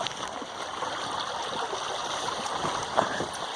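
Creek water runs steadily over cracked bedrock along a stream, producing a continuous close broadband rush with faint trickling detail and no voices.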